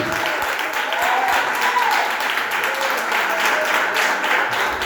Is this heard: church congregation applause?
yes